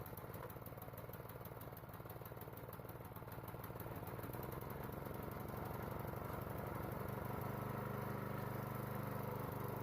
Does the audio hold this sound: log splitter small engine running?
yes